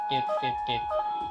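A homemade landslide early-warning system sounds its alarm at alert level 2, triggered by ground movement of more than 20 cm. It gives a steady electronic beep tone that runs continuously beneath a man's speech.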